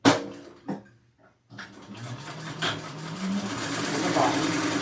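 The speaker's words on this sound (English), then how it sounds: "I'm going to sew across the top." A sewing machine stitching across the top of a piece of fabric: a brief start and stop, then a steady motor whir that builds and runs continuously, fairly close and loud.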